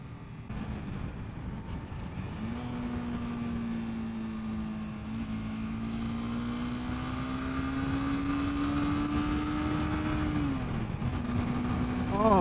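A 2021 Honda CBR 300R motorcycle engine drones steadily while riding, its pitch rising gradually and dipping briefly near the end, with a blended wind rush throughout.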